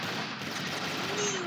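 A short, loud burst of gunfire in Roblox Phantom Forces, with a rough, crackling clatter over a brief stretch of dense battle noise.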